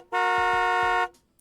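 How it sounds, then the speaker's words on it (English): Car horn in a video game sounding as one sustained, bright, buzzy blast of about a second, loud and isolated, followed by quiet. "there are 3 sharp honks of a car horn"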